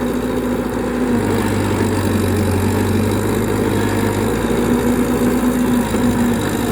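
Kobelco SK120-3 excavator digging hard sandy clay soil while clearing an old pond, its diesel engine droning loudly and steadily close by, with a low pitch that swells under load partway through.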